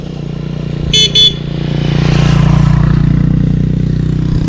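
Three dirt bikes pass on a trail through tall grass, their engines droning steadily, growing louder toward the middle and staying close, with a brief double horn-like beep early on.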